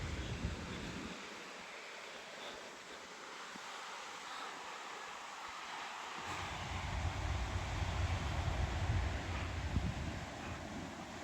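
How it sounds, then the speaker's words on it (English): Strong wind buffets the microphone on the Lake Superior shore at Marquette, Michigan, a steady broadband roar that thickens and grows louder partway through, with surf-like rushing underneath and no talking. "it's super windy, so bad audio incoming"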